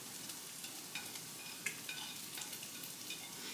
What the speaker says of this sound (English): I'm going to put the green onions in there.